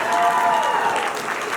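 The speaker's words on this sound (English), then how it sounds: "A big round of applause for our MCs, please." An audience at an annual Bollywood and Kathak dance production claps for the emcees, a dense, steady burst of applause close by that fades slightly toward the end.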